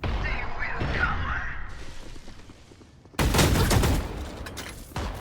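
Shotgun fire in the first-person shooter Valorant, a dense burst of loud blasts after a quieter stretch of game noise, with another shot near the end.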